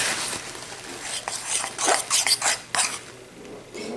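A utensil scrapes and taps against a bowl while melted white and dark chocolate is stirred, a series of irregular close scraping strokes and light clinks.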